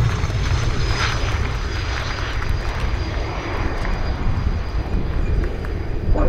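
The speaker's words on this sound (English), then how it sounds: "But coming into land after a very impressive display, Colonel Stanciu Gheorghe from Escadrilla 86" Romanian Air Force MiG-21 LanceR delta-wing fighter coming in to land at an air show, a steady, loud, broad jet engine roar held throughout with no talk over it.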